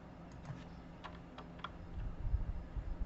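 Keys on a computer keyboard are tapped in quick irregular bursts, close and fairly quiet, with no voices.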